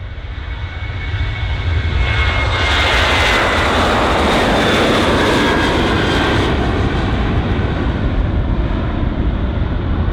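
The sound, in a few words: aircraft taking off from runway 27 at Bristol Airport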